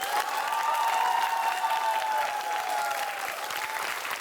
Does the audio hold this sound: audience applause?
yes